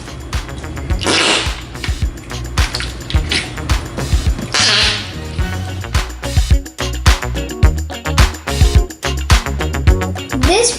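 Flarp noise putty squished by hand to make fart sounds, a rapid run of short wet squelches and sputters in irregular bursts, loud and close throughout with no talking.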